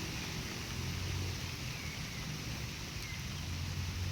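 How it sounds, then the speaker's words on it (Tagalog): Heavy typhoon rain falls on a farm during a bitter gourd harvest, a dense, steady rushing wash that stays constant throughout with no talking. "napaka-ulan dito mga ka-farmers no? Sobrang ulan."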